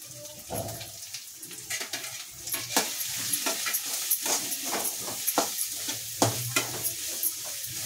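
Vegetables and spices stir-fried for restaurant-style veg fried rice, with close, steady sizzling broken by repeated scraping and stirring strokes in a pan, alone without talk.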